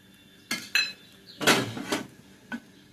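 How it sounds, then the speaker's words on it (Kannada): A metal pan clanks down on the stove with several separate knocks and clinks, loud and near, with short pauses between them, before oil is poured in. "ಈಗ ಪ್ಯಾನ್ ಇಟ್ಟಿದ್ದೀನಿ ಸ್ವಲ್ಪ ಎಣ್ಣೆ ಹಾಕ್ತೀನಿ"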